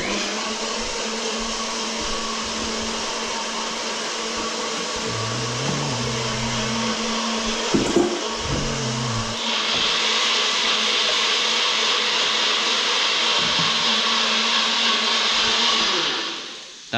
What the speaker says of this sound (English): So yeah, you want to blend it quite a lot.